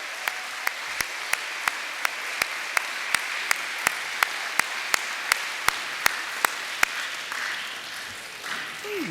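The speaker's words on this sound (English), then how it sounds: "we have a big round of applause for our junior kindergarten pre-K students?" A school assembly audience claps for junior kindergarten pre-K students in steady, evenly spaced claps, almost like a single rhythmic beat, ending in a soft murmur near the close.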